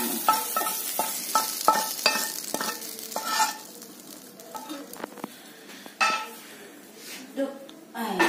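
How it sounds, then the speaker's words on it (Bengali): Paneer frying in a pan, a soft sizzle beneath repeated metallic scrapes and clinks of a spatula against the cookware, close and intermittent with a few louder knocks. "এবার এখানে পনিরটা ভাজা"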